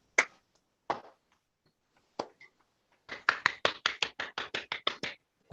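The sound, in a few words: applause from Zoom participants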